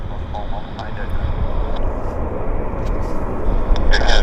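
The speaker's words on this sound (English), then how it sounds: "we've got another Dreamliner pulling out of the horseshoe here" A Boeing 787 Dreamliner taxis out from the stands at Vancouver airport, a steady low engine rumble with faint higher whine, moderately loud and continuous, while someone talks over it.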